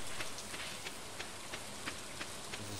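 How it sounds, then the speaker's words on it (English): Steady rain falling in Stardew Valley, a soft, even patter with faint drop ticks, quiet and continuous with no talking. "Some rain."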